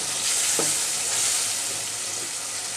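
Steady, loud sizzle of kochu mukhi (taro) frying in a pan with chili paste for a katla fish curry, continuous frying hiss with a faint stir partway through.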